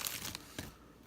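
A plastic bag crinkles and rustles close by while a Kobalt 24-volt max 3/8-inch impact wrench is unboxed, coming as a few quick, faint crackles.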